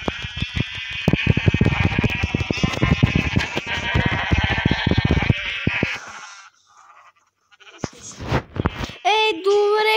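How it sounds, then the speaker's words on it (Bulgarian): Sheep bleating in the video game Minecraft, many overlapping bleats dense and loud for several seconds, then a quiet gap and a few more scattered bleats near the end. "Ще напълним също овце тук."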